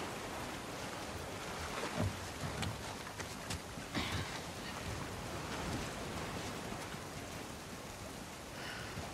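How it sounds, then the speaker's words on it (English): Rain pours steadily in The Last of Us Part II on the Scar island, a soft continuous hiss with scattered faint knocks and no talk. "Let's get out of the rain."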